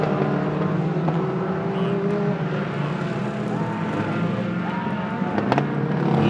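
Stock cars race around a circuit in continuous, loud engine roar, with several cars droning and passing at mid distance as the pack circles the track.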